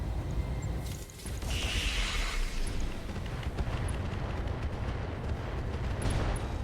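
A heavy PPC volley fires in the mech game RogueTech as a loud, rolling crackle of energy discharge. A broad hissing surge is followed by a sustained roar with scattered sharp pops and mechanical rumble.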